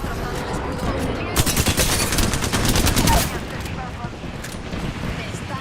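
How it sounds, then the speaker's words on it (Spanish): Rapid bursts of enemy gunfire ring out in a shooter video game, a dense fusillade peaking in the middle and then easing, with a player's voice talking over the shots. "Me están disparando."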